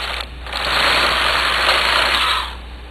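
A knitting machine carriage sweeps across the bed knitting one loose row for a child's English rib sweater, a steady mechanical whirring rush lasting about two seconds, close and fairly loud, with no talking.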